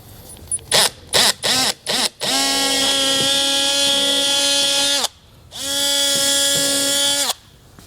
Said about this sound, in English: with our 1/8 inch drill bit here, we're going to go ahead and drill out our 2 holes